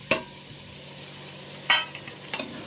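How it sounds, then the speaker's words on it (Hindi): Chopped tomatoes, four of them, tipped into a hot frying pan of mixed vegetables, giving a close sizzle broken by a few sharp clinks and scrapes of a utensil against the pan. "तो अब ऐड कर देती हूँ मैं टमाटर, ये 4 टमाटर जो मैंने कट करके रखे हुए थे ये ऐड कर दूँगी"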